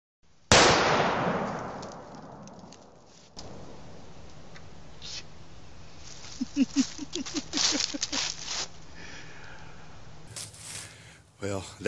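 Three grams of flash powder packed into a half-inch hole drilled in a Christmas tree trunk go off in one sharp, loud outdoor blast that rings and decays, followed by a patter of debris and later scattered clatters and footsteps.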